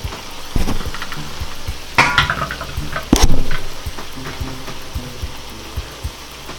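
Shrimp being stirred in a metal pot while cooking, with scraping utensil strokes, a couple of sharper clanks against the pot and a steady bubbling sizzle underneath, close and fairly loud.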